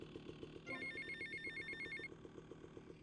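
Payphone in Grand Theft Auto: Vice City rings with a rapid electronic trill lasting about a second and a half, over a steady rhythmic pulsing game background.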